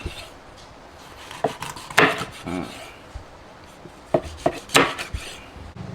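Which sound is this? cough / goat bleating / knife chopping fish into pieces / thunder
knife chopping fish into pieces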